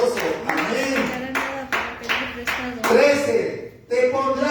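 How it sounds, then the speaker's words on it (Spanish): Congregation applause in a church service, a loud, steady wash of clapping running under a preacher's raised, shouted voice and crowd exclamations. "¡Aplauso al Señor Dios Todopoderoso!"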